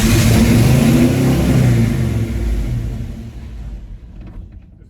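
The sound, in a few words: Chevy C20 engine revving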